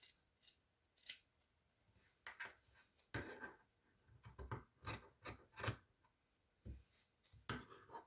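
Scissors snip through fabric while trimming a sewn hand towel near its seam, a series of close, crisp cuts in irregular bursts with quiet pauses between them.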